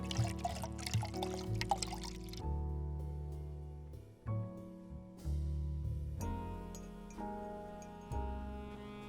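Six cups of water pour into a pot of baked cinnamon apples in a series of short splashes and trickles, separated by clinks, with droning background music over the whole stretch.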